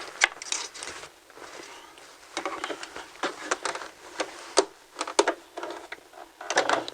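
A sewing machine runs a straight stitch at 2.5 length through gathered fabric, with short bursts of quick mechanical needle clatter broken by brief pauses, close and fairly quiet, no voices.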